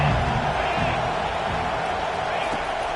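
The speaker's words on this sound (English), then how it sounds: "this crowd is turning it up a notch" Stadium crowd roaring steadily in a college football video game, Florida State against Alabama, a dense continuous wash of cheering that stays loud throughout with a commentator's voice over it.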